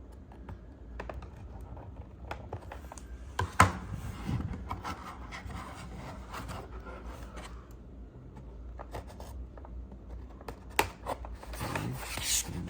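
A blade cutting and scraping through packaging while a NECA Batarang replica from Batman: Arkham Knight is unboxed, heard as close, quiet rasping and rubbing strokes with a few sharper clicks, without any talk.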